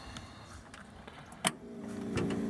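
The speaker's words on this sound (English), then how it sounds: "Hear the electric fuel pump kick on." A faint click, then a low electric fuel pump hum on a 1924 Ford Model T street rod starts up and holds steady in a quiet setting.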